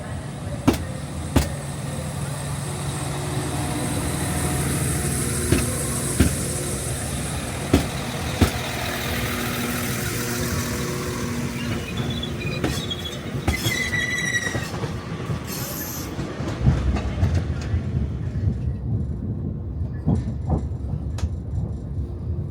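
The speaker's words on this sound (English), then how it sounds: "looks like this is going to be a busy train, and it's just coming in right now" A Transport for Wales passenger train pulls into the platform at Crewe station, a continuous rumble of rolling wheels and engine with sharp clicks over rail joints and brief wheel squeal as it slows, no talk.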